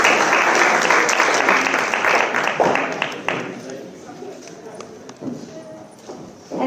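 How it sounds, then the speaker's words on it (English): A crowd applauds loudly at a Mahavir Jayanti celebration, the clapping dense at first and then thinning to scattered claps as it fades out. "Let's give them a round of applause, everyone."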